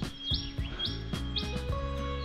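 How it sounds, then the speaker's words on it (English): Birds chirp and tweet in quick repeated bursts over a steady background of river water beneath she-oaks, several calls close by and bright. "Lots of birds too, it's really nice."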